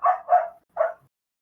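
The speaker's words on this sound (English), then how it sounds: "I hear somebody else's pupper. Yeah, she is just barking at deer." A dog barks at deer, three loud close barks, two in quick succession and then one more after a short pause, with nothing else audible around them.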